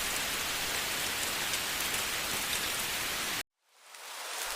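Steady, dense rain pours down as a continuous hiss for several seconds, then cuts off abruptly into silence before the rainfall fades back in gradually near the end.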